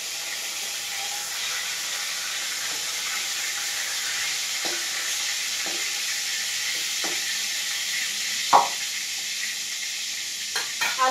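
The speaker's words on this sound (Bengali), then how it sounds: "আলুটা আমি সিদ্ধ করে রেখেছি তাও আমি একটু ভাজে দিচ্ছি" Boiled potatoes fry in the oil left from frying pointed gourd, a steady loud sizzle broken by occasional scrapes and clinks of a stirring spatula near the end.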